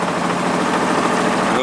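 A V-twin Briggs & Stratton engine on a swamp tour boat in La Place, Louisiana roars loud and close as a steady, rough drone, with speech faintly mixed in.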